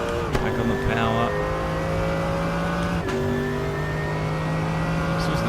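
Race car engine in the iRacing sim, revving steadily with rising pitch as it accelerates, a brief dip near three seconds like an upshift, loud and continuous without speech.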